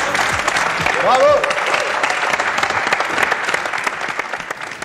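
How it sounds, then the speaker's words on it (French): Studio audience on a French TV game show applauds loudly and steadily throughout, with a voice calling out over the clapping. "Ben nous aussi, on l'applaudit."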